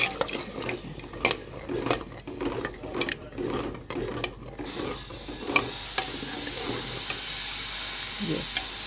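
Cooking water from rajma is poured into sizzling masala in a pot and stirred, giving repeated scraping and stirring strokes over a soft sizzle, fairly close and moderately loud, with no one talking.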